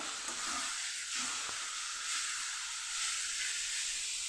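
Grated radish cooks down in a pan for a Kathiyawadi sweet-and-sour relish, giving off a steady, faint, hissing sizzle with a few soft stirring sounds early on.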